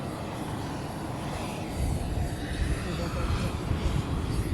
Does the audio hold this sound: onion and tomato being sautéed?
no